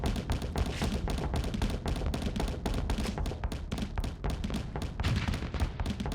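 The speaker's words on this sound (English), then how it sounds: "These are auto cannons." Autocannons fire in Starsector space combat, a dense, continuous barrage of rapid thumping shots with overlapping impacts, loud and sustained throughout with no pauses.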